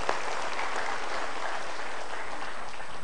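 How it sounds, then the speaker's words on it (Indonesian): Studio audience applauding steadily at a motivational talk show, a dense even clatter of many hands that fills the whole moment without speech. "Kita berikan tepuk tangan dulu."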